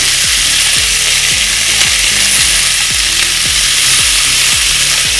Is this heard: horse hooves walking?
no